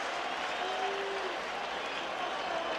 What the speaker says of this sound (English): An appreciative round of applause though from the fans behind the Chicago dugout.